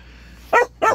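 A dog gives two sharp, loud barks close up, about a third of a second apart, with a quiet room otherwise.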